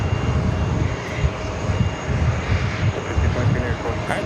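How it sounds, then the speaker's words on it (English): A Delta Connection CRJ 900 LR jet arriving at New York's JFK airport, heard as a loud, steady engine roar with a rumbling low end that holds throughout. "This flight coming in from Syracuse, New York, Delta Connection, flight 5436, CRJ 900 LR."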